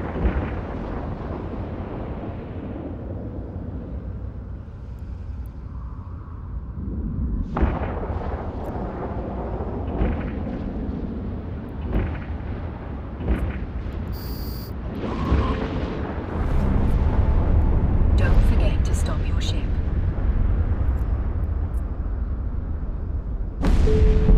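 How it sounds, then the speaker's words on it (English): Ship weapons fire in EVE Online space combat as repeated deep booming bursts and blasts over a low rumble, growing louder and denser in the second half. "Now it's time to engage your weapons"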